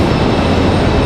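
A Republic Airways Delta Connection Embraer E175 LR arriving at Raleigh-Durham airport gives off a loud, steady jet roar, broad and continuous and heavy in the low end, with no talk.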